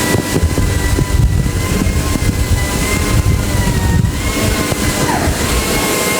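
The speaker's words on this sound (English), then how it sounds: "It's polishing J handle here to make it smooth enough for the last top coating." Polishing machine working on the J handle of a lacquered kitchen cabinet in a cabinet factory, a loud, steady whine with a droning motor hum and rough sanding friction, amid constant workshop noise.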